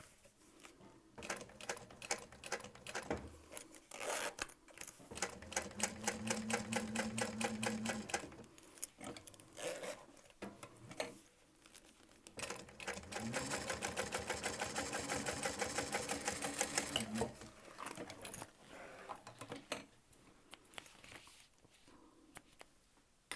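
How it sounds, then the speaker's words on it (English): A sewing machine stitches across the top section of a small waistpack in rapid mechanical bursts, stopping and starting several times with a long steady run in the second half, close and clear with no talking. "All right, so we'll sew across that top little section."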